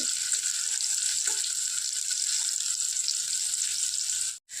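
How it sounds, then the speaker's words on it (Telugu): Paneer pieces frying in a pan for a paneer curry, a loud even bright sizzle held throughout, close up and cut off briefly near the end, with no talk. "ఇది వేపుకుంటాం కదండి అందుకనే కొన్ని కొన్నిగా వేసుకొని నీట్గా వేపేసుకోవాలి"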